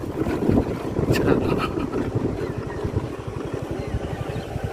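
Boat crossing the Jalangi river toward Mayapur with a scooter loaded aboard, giving a steady low engine rumble with wind buffeting the microphone, continuous and fairly loud throughout.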